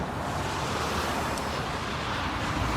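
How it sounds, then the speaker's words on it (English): Loud traffic passing beside an industrial park in Danvers on a windy day, a continuous broadband roar with wind buffeting the microphone, no talking. "I'm going to try to talk loud to talk over this traffic."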